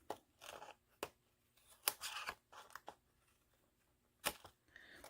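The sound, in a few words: scissors trimming paper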